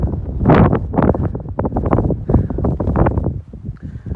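Strong gusts of wind on the exposed summit of Guadalupe Peak, Texas, at 8,749 feet, roar and buffet the microphone in loud, continuous surges with no break.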